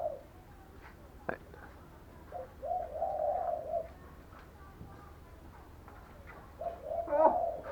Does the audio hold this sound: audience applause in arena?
no